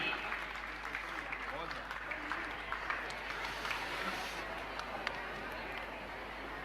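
A seated audience at a Jain religious gathering applauding to welcome a guest doctor, a dense steady patter of clapping with faint crowd murmur, fairly distant and low in level.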